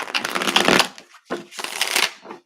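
A deck of tarot cards is riffled and shuffled at close range, giving three quick papery bursts of flicking cards with short pauses between them, and no one speaks.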